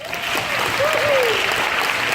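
An audience at the ACE Winter Warm Up presentation applauds to cast a vote, a dense and sustained wash of clapping with a brief high whistle rising over it.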